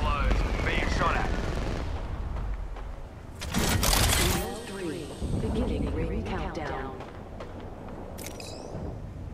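Bursts of rapid gunfire from the video game Apex Legends crackle amid game effects, with a loud burst in the middle and a voice speaking over much of it.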